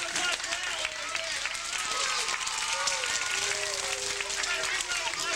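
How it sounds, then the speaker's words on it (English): A studio audience applauds at a June 2001 local television taping in Massena, New York, sustained broadband clapping filling the whole stretch with crowd murmur and a voice talking underneath. "Big round of applause for Al over there."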